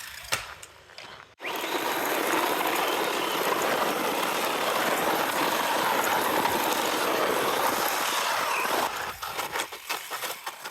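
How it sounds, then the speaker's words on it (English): Loose rocks rattle and clatter continuously inside an RC car as it flips and tumbles, a dense, loud shaking that starts abruptly and runs steadily for several seconds before breaking off into scattered knocks. "So many rocks inside of it, it's like a maraca when you flip it over."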